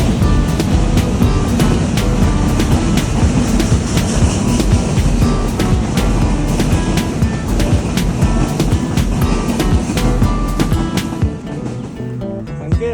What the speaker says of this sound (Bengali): ট্রেনটি প্রায় ম্যাক্সিমাম স্পিডে ধুলো উড়িয়ে চলে যায়।